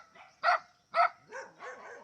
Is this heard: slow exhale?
no